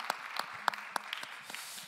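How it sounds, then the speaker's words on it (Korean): A church congregation at a Sunday youth worship service gives scattered, fairly close handclaps in an uneven rhythm, a short, light burst of applause. "박수로 서로의 삶을 응원하며 축복합니다"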